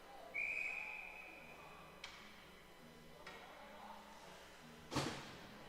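A referee's whistle blows once, clear and sustained, at a college hockey game between Ramapo College and Fordham, followed by scattered sharp knocks and a loud bang in the arena.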